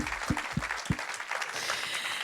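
Applause at an evening awards event, fairly faint and distant: a few distinct low thumps open the clip, followed by a thin, scattered patter of clapping.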